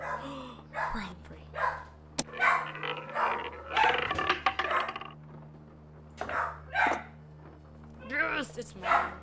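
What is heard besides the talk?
dog barking in the room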